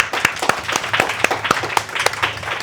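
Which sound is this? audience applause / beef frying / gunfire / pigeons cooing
audience applause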